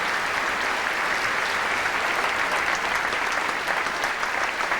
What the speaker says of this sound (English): Being applauded by a packed house here in Belfast at the Waterfront Hall